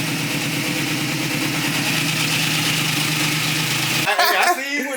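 A Cutlass car's newly installed engine idles steadily and loudly close by, a constant low rumbling drone that cuts off near the end, followed by a brief burst of voices.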